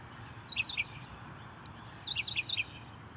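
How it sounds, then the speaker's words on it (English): A small brown bird chirps on a quiet morning in the Sugar Land and Stafford area of Texas, two quick bursts of high, bright notes separated by a pause over faint background hum. "it's a brown bird."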